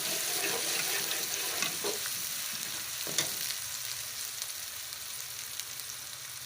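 Onion with a garlic, ginger and green chilli paste fries in a pan for paya, an even, close crackling sizzle with a few stirring scrapes and no talk.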